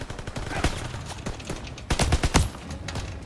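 Call of Duty gunfire on the armored-train level: dense, loud automatic bursts and single shots crackle throughout, with the heaviest volleys clustered toward the end and no talking.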